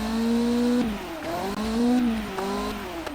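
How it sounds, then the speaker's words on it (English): A tiny V8 engine in a kei supercar in BeamNG.drive drones with a steady buzzing hum, rising and falling in pitch through several shifts and rev changes, close and continuous with no talk. "That does not sound like a V8. To be fair, it is the world's smallest V8"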